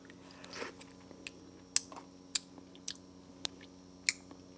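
Shawarma with cilantro jalapeno sauce being chewed close up, with quiet squishy mastication broken by several sharp crunchy bites at irregular intervals.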